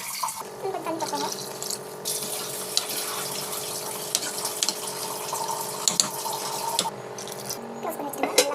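Water poured into a cooking pan of roasted semolina, a continuous running splash that holds steady for several seconds, with faint clatter near the end.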